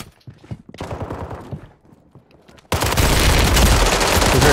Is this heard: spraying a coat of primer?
no